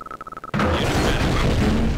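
Barracks explode in the Tiberian Sun strategy game: a few quick electronic beeps, then a sudden loud boom that rolls into a sustained, crackling blast of debris lasting to the end.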